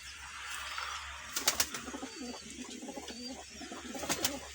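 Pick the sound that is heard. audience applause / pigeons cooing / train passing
pigeons cooing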